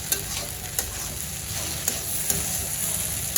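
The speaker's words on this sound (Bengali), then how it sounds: "পেঁয়াজ দিয়ে কাঁচামরিচ দিয়ে ঢেঁড়স ভাজি করছি" Okra frying with onion and green chili in a pan gives a steady close sizzle, with a few sharp stirring knocks at irregular moments and no voices.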